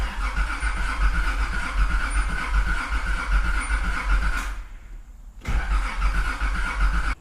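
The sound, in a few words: Nissan Z car engine cranking, failing to start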